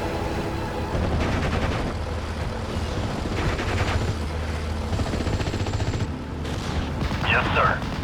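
Gunfire rattles in short bursts inside a World War II tank war video game set in Normandy, 1944, mixed with rumbling vehicle noise and occasional radio-style voices.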